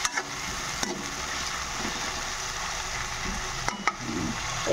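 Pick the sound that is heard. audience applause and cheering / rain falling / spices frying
spices frying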